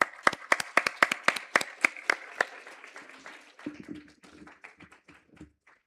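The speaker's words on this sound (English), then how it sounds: "can we have one final round of applause for both of them?" Applause rises at a university live event honouring two guests, starting as a few loud, distinct claps that thin out into softer, scattered clapping and fade after several seconds.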